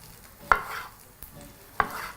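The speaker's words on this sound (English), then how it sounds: "grab one of your large tomatoes and begin to cut it really, really finely and very, very small" A knife cuts a large tomato into very small pieces on a board: three separate sharp chops, the middle one lighter, each with a brief wet crunch, close and clear.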